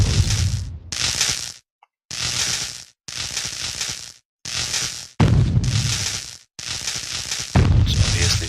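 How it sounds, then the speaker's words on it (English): Electrified barricades in the Crashlands video game are struck repeatedly until they blow apart, a string of about eight short, crunchy bursts separated by brief silences, fairly loud and close. "hit those shocking barricades until they explode"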